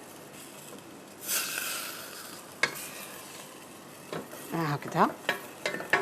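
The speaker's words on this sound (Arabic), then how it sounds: "راه يتقلى، نحرك" Cauliflower frying in a pan while being stirred, giving a steady close sizzle with scraping stir strokes and a few sharper clinks toward the end; a voice speaks briefly.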